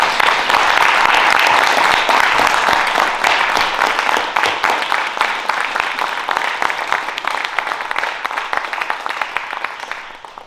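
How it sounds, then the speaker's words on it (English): A large audience gives sustained applause for clergy and faith leaders at a foundation announcement, a dense wash of clapping that gradually thins toward the end. "let's give them a round of applause, please"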